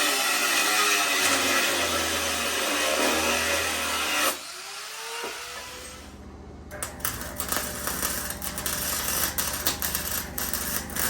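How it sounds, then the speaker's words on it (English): A gas generator and an old Harbor Freight welder run at a steady drone for the first few seconds, then cut out. Sharper, uneven mechanical noise follows close by. "Fire up the generator and fire up the old Harbor Freight welder"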